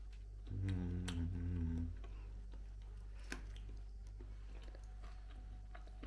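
Someone chews a rolled cucumber and cheese hors d'oeuvre up close, soft wet crunching and mouth sounds at the start, then quieter intermittent chewing against a low steady hum.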